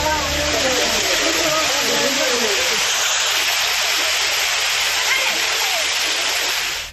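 Steady, loud roar of the waterfall at Courtallam in Tenkasi, falling water rushing continuously close by with no break for the whole stretch.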